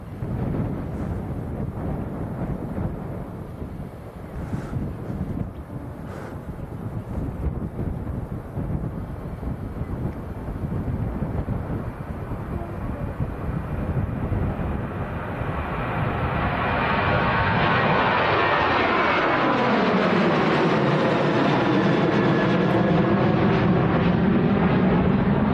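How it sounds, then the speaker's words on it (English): A Pegasus Airbus A321 jet passes at Manchester Airport, its engine roar swelling steadily over the wind-buffeted background and holding loud and close at the end. "A321 coming across."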